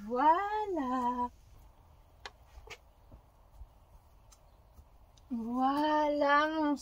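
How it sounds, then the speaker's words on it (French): A pet cat gives two clear, drawn-out meows close by, one at the start and a longer one near the end, with a quiet stretch between them holding faint rustling and a low hum. "Voilà mon chat"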